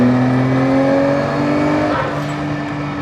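A 600 hp Nissan R32 GT-R engine revs high and strong, its pitch holding and slowly easing as it keeps pulling, loud and close with no talking.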